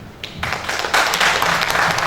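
An audience at a university event applauds, with scattered claps at first swelling into full, steady clapping after about a second.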